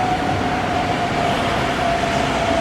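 A train at a station in Geneva, Switzerland, gives a loud, steady rumble with a faint sustained tonal whine running through it, continuous and close, with no voices.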